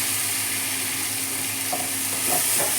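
Boiled cluster beans (goru chikkudu) being stirred and mixed in a pan with turmeric and salt, a steady close sizzle with a few soft scrapes of the spoon near the end, no talking.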